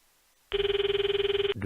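A phone rings while Ruka is called in the video game Steins;Gate 0, a steady electronic ringtone pulsing rapidly and loudly for about a second, cut off abruptly at the end.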